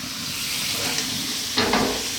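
Potato fries frying in oil in a pan, cooking until brown, give a steady broadband sizzle throughout, with a brief louder burst of crackling and stirring near the end.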